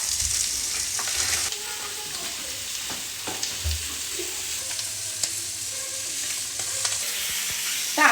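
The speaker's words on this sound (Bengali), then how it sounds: "আমাদের মাছগুলো ভাজা হয়ে গেছে" Pabda fish fry in a small amount of oil with a steady, soft crackling sizzle throughout, broken by occasional scrapes and clinks of a spatula in the pan.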